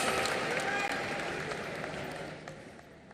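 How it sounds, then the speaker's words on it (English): Audience applause at a live festival award ceremony, a dense steady wash of clapping from a large crowd that slowly fades, with faint voices mixed in. "Round of applause for Anand Dukapati, ladies and gentlemen."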